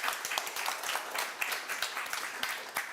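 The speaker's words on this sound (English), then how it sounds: "let's give a round of applause" Audience applause at the end of an evening lecture on the Odesa city myth, steady dense clapping at moderate volume from a seated crowd, sustained throughout with no talking.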